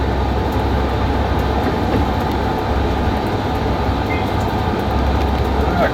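Train running along a railroad in Alaska between Denali and Anchorage, a loud, steady rumbling roar with constant wheel and track noise and no pauses.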